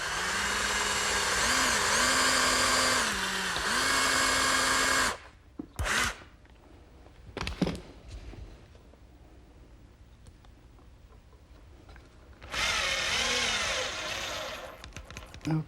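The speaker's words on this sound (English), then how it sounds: "Now I'm just going to drill a pilot hole for a screw." A power drill whines loudly in two long bursts while drilling a pilot hole for a screw, with a quieter gap of clicks and handling noises between them, close by.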